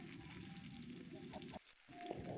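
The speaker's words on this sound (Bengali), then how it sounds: "আমরা পেঁয়াজগুলি ভেজে নেব।" Onions frying in hot oil in a wok (kadai) while cooking chicken biryani, giving a steady, soft sizzle with a brief dip near the end before the crackle returns, quiet and with no talking.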